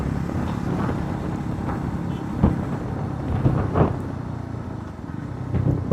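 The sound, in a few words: 350cc cruiser motorcycle engine while riding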